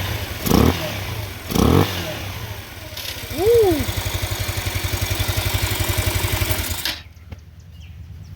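An X-Pro 150cc Bali motorcycle engine idles with a steady throb, blipped by sharp revs, with a short excited shout from a nearby voice before the engine drops off.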